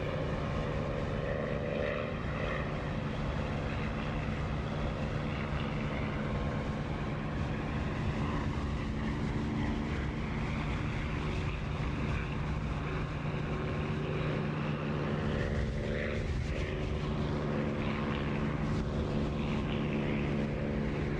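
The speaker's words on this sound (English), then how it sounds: "that's the sound of the canopy open" Steady, loud roar of rushing wind and a droning propeller engine surrounds an open-canopy cockpit in the DCS flight simulator, continuous and unbroken throughout with no voices.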